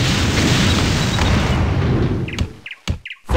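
A ship fires a cannon broadside in Anno 1602: loud, dense booming rumbles merge into a sustained roar, then trail off into a few separate sharp reports with short gaps between them.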